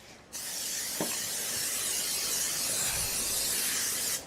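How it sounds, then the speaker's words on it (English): Non-stick cooking spray hisses from a can into a 9x13 casserole dish in one continuous burst of about four seconds, close and clear, stopping abruptly. "You're gonna add either some non-stick cooking spray or even some butter."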